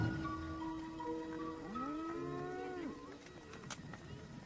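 Cattle of Afar herders lowing in the hot desert, a long drawn-out moo rising and falling at moderate distance over a steady background murmur, with faint further calls afterward.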